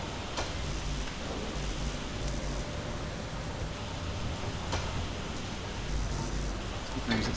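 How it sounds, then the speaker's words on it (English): Steady broadband hiss of rain in the Space Engineers video game, a continuous loud wash throughout with a few faint clicks, no clear talk. "I really hate the rain. It's so loud."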